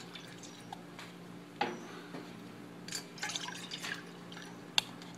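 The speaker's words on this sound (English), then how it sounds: "some water, the Seagull, pouring it in" Water pours into a Seagull cooking pot for a denatured-alcohol survival stove, giving faint drips and short liquid splashes in bursts against a quiet background, with no talking.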